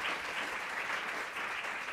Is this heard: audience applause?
yes